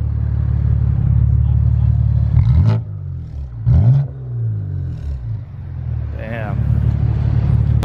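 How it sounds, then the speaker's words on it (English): A BMW E92 M3 engine, whose owner suspects rod bearing trouble, idles with a deep rumble and is blipped in a few sharp revs that rise and drop back, close up, with voices talking over it. "Hey, give us a few revs, yeah?"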